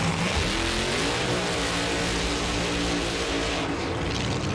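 A drag racing car at a Winter Nationals event in Pomona roars loudly through a burnout, a dense, sustained engine blare with tire noise that stays at full volume throughout.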